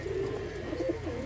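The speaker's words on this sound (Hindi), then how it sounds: "ये हमारा दूसरा कबूतर लाल आंखों में है" Pigeons in a loft give a soft, low cooing, brief and close, over a faint background hum.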